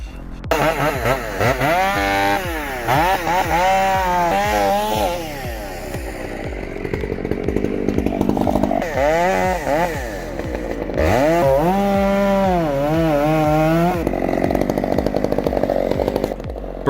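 A chainsaw works on a burnt, hollow redwood, its engine snarling up and down through repeated high revs and dips across the clip, loud and close with no talking.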